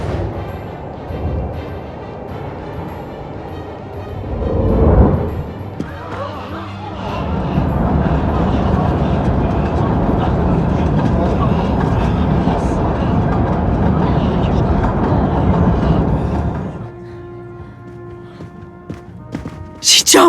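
Steady rumbling clatter of a train running through a tunnel in a murder-mystery video game set on the Orient Express, loud and continuous for several seconds before cutting off, with a thud and quieter noises around it.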